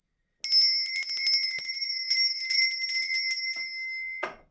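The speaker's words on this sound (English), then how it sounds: "I do have my little lady bell that I will be jingle jangling right now." A small hand bell jingles continuously for about four seconds in a bright, steady ringing shimmer with quick irregular shakes, loud and close, then stops abruptly with a brief clatter.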